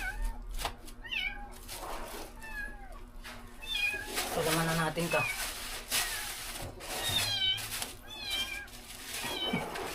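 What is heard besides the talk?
cat meowing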